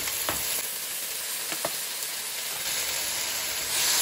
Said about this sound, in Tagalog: Igisa hanggang maglutay-lutay yung kamatis